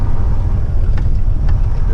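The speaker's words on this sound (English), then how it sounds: "The Mack sounds amazing. I love, you know, that deep roar of the engine." A Mack truck running without a trailer gives a steady, deep engine rumble, loud and close throughout, with no voices over it.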